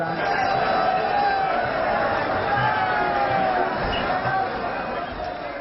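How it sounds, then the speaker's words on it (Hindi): Dense crowd of devotees at Baba Baidyanath temple in Deoghar on the last Monday of Sawan, a steady murmur of many voices and shuffling that fills the space continuously at close range. "बहुत ज्यादा ही भीड़ है क्योंकि आज सोमवार है और लास्ट सोमवार है"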